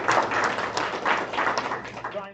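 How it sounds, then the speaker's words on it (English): An online CFO council meeting audience applauds a presenter with a brief patter of clapping, moderately close and mixed with a voice. "let's give Brian a round of applause."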